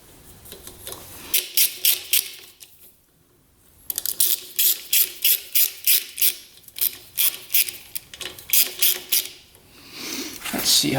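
Ratchet tightening a carburetor arm lever, heard as several bursts of quick clicking strokes with short pauses between, close and fairly clear, no talking.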